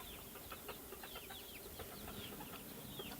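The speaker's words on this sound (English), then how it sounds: "Behind me, the chickens are pretty much going insane." Chickens in a yard alongside bantam chicks, with wild turkeys nearby, keep up a busy run of overlapping clucks and squawks at moderate distance, steady throughout with no talking.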